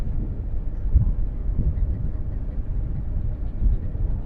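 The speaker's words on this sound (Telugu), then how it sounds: "ట్రైన్ వెళ్ళిపోతుంది." A train rolls past near the Godavari river, heard from a boat as a steady low rumble with wind buffeting throughout, a few slightly louder thumps, and no clear voices.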